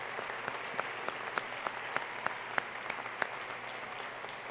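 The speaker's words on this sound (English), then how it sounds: "So how about a round of applause for all of you?" A graduation ceremony audience applauds steadily, a dense wash of clapping with a few sharper nearby claps standing out, with no talk over it.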